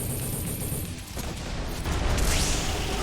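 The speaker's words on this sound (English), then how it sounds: "those are secondary explosions" Dense crackling explosions in a boss fight in the M.A.S.S Builder video game, a loud, continuous barrage of booms and blasts with a sweeping whoosh near the end.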